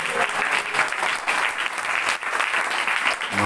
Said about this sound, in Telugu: గట్టిగా చప్పట్లు స్తోత్రం చెప్పండి